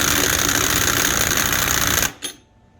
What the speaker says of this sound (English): You're going to place it on your little impact there. We're going to give it some ugga-duggas until it locks down.